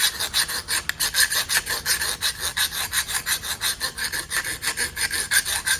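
A file rasps rhythmically along the cutting edge of bypass garden shears, close and fairly loud, with quick, regular back-and-forth strokes repeating steadily for several seconds and no talking.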